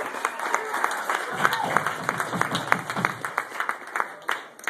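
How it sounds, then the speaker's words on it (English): A gallery audience at a lecture-series event gives a round of applause after a roundtable discussion, steady close clapping from a modest crowd with some voices mixed in. "how about a big round of applause for Mr. Patrick Godfrey for hosting that informative roundtable discussion"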